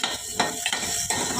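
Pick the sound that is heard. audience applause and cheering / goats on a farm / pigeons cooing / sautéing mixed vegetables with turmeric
sautéing mixed vegetables with turmeric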